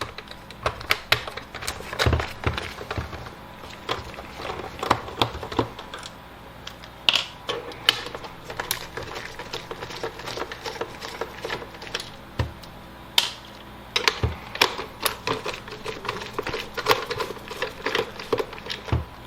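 Screws being undone from the case of a Sega Dreamcast console, with a steady run of small sharp clicks and ticks from a screwdriver and handled parts, close up and fairly quiet, with no talking.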